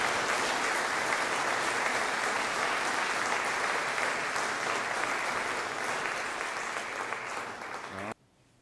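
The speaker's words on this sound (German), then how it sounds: "Den Applaus habt ihr euch verdient." Audience applause at a German district sports association anniversary awards ceremony, a dense, sustained wash of many hands clapping that slowly thins before cutting off abruptly near the end.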